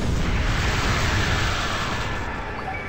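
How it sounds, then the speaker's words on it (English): Garuru Cannon attack in a Digimon video game: a loud, sustained roaring blast that fills the clip and slowly fades, with no talking. "Alright, come on, Garuru Cannon."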